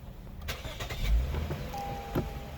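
A 2014 Lexus IS250 engine cranks and catches, a short start burst near the microphone followed by a low steady idle with faint clicks.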